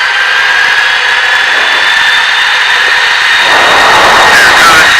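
An L-39 jet's engine runs at about 85% power during a warm-up, a steady loud whine with a sharp high tone held throughout, growing rougher and fuller toward the end.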